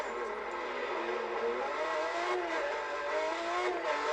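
Ferrari race car engine in Forza Horizon roaring steadily at high revs, pitch climbing and wavering as it accelerates, loud and continuous throughout without any talk.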